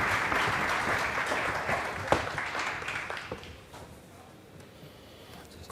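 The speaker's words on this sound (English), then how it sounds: "Please, big applause." A conference crowd at South Summit 2016 breaks into loud applause for a speaker arriving on stage; the clapping swells, then thins and fades within a few seconds.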